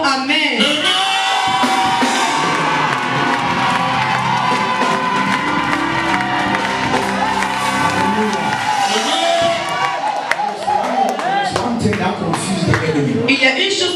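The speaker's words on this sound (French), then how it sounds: "you will shout your loudest amen." A church congregation shouts amen loudly, a dense mass of voices, cheers and whoops filling the space for about fourteen seconds at strong, sustained volume.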